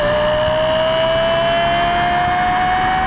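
A Lexus LFA engine, able to rev to 9000 RPM, holds a loud, steady, high-pitched note that climbs slightly across the clip, smooth and sustained close up before cutting off at the end, with no voices.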